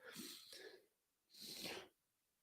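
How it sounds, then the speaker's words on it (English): Two close sneezes in quick succession, each a short breathy burst separated by a brief pause, fairly quiet and with no talking. "Sneezing is so ridiculous."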